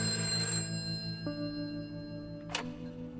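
A telephone ringing during a prison phone call in the video game A Way Out, heard as steady electronic tones over a low game hum, with a short bright burst near the end and no one talking.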